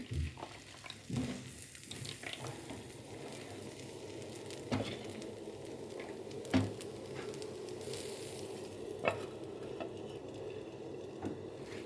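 Chitoi pitha rice batter cooks in a pan with a soft, faint sizzle, broken by a few light scrapes and clinks, quiet and steady with no voices.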